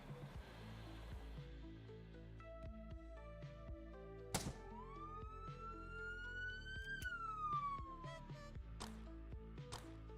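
A police car siren rises and falls in a Unity-built penguin video game, wailing over a busy background of game music and sound effects, with a few sharp thunks cutting through.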